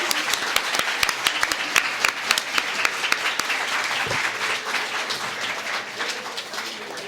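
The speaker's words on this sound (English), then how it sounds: "now you can clap again" Sustained audience applause at a Minneapolis Ward 7 city council candidate forum, a dense, steady wash of many hands clapping with sharper individual claps near the start, fading slightly toward the end.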